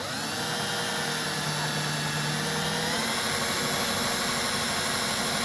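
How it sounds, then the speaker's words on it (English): A power drill bores out a rivet on the gas shutoff valve of a 1956 Ford 601/641 Workmaster tractor, making a continuous, loud mechanical whine and rumble that holds steady throughout with no talking. "I'm drilling this rivet out."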